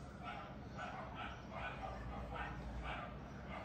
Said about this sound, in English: Noisy dogs.